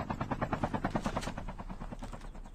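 A video game helicopter's rotor thumps in a fast, steady rhythm, quiet and continuous, with no one talking over it.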